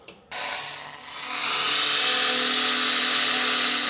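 Laser rust removal on 3/8 steel plate covered in mill scale, a sharp click followed by a steady high hiss and buzz that builds and then holds loud and continuous.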